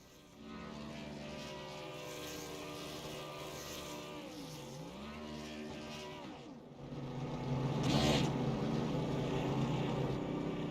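A race car's engine drones loud and steady with a wavering pitch during a celebratory burnout after a championship race at Saturday Night Thunder's Grand Jackpot 180, swelling into a harsher, roaring burst late on.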